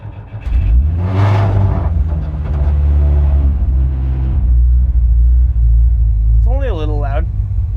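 A Volkswagen bus with a swapped-in Toyota engine drives on a test run. The low engine drone rises and falls through the gears, loud and close, and people talk over it.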